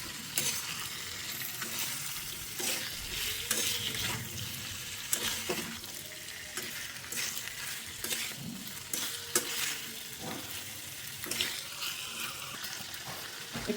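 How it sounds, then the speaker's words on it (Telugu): Chicken pieces coated in masala with ginger and garlic are stirred in a kadai while frying: a soft continuous sizzle under irregular scraping and clattering strokes of the spoon against the metal pan. The sound is quiet and close, with no talking. "చికెన్ బాగా కలుపుకోవాలి, మసాలా మొత్తం కలిపేలాగా"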